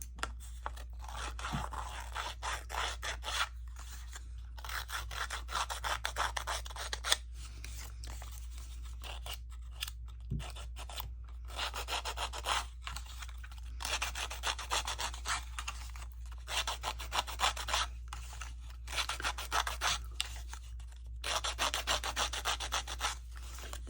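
A paper strip's edge is roughed by hand to give it a washed-out look, producing bursts of dry rubbing and rasping scrapes in repeated strokes with short pauses, close and fairly quiet under a steady low hum.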